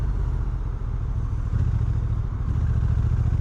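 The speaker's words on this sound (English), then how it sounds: "I'm actually going to shift into S mode for this one" A 2025 Honda NT1100 DCT motorcycle engine running in S mode on a commuter ride, giving a steady, loud low-pitched drone with wind rumble and no clear revving changes.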